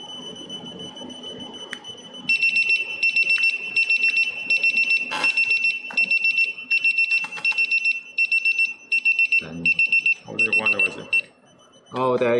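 A Steelmate TP-MT11 or TP-MT30 tire pressure monitor sounds its low-pressure alarm, a loud, insistent high-pitched beeping in rapid repeated pulses that runs for about ten seconds, briefly broken by someone speaking.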